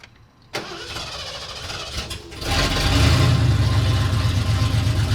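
An engine cranks over and catches on a cold start using the choke, sputtering briefly before settling into a loud, rough idle close by.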